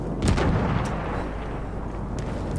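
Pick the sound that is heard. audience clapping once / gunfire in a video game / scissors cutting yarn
gunfire in a video game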